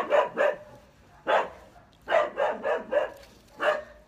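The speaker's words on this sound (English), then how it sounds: "Dogs are barking." Several dogs bark in short bursts, some doubled, at a moderate distance, with brief pauses between the volleys.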